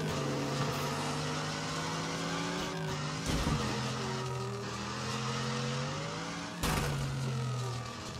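A racing car engine in the video game Wreckfest whines and climbs through gears on a canyon track, loud and continuous, with brief sharp bursts as it shifts and skids.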